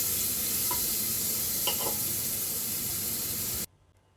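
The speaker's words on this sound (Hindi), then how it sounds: "अब गरम घी में मैं डालूंगी कद्दूकस किया हुआ पपीता।" Grated raw papaya hitting hot desi ghee in a pressure cooker gives a loud, steady sizzle with a few faint stirring clicks, then cuts off abruptly near the end.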